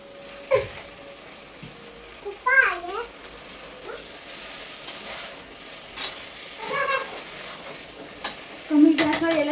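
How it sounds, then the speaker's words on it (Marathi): Turmeric-coated chicken fries on low heat in a pan with browned onions, making a continuous sizzle broken by scraping stirs and utensil knocks, with a few brief background voices. "कांदा छान ब्राऊन होतोय. आता मी त्याच्यात चिकन ऍड करते."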